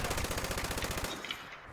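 Automatic gunfire in the Fallout 76 video game, a rapid burst of evenly spaced shots for about a second, loud and close, then cutting off into a brief fading tail.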